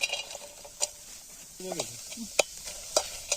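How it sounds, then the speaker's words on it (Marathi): Onion dry-roasts in a bare pot without oil for chicken: quiet dry scraping and occasional clicks of a spoon stirring, with a soft sizzle underneath. "कांदा मित्रांनो आपण सुरुवातीला तसंच भाजून घेतोय बिना तेलाचा"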